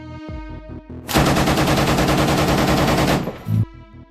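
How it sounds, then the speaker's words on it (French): An M240 machine gun fires one long sustained burst of rapid, closely spaced shots, loud and near, on the Ukraine front, with quieter mechanical hum before and after. "À côté se trouve la mitrailleuse M240."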